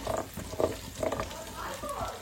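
Cauliflower frying in a pan for khichdi makes a soft, steady sizzle with a few stirring scrapes, close but fairly quiet, and a voice talks faintly over it.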